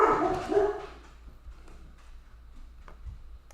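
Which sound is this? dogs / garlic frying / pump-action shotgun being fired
dogs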